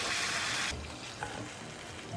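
A cornstarch-coated haddock fillet fries in olive oil, giving a hissing sizzle that is loud at first, then drops to a softer crackle after a brief clatter, heard up close.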